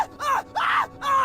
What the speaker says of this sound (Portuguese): Depois ele grita.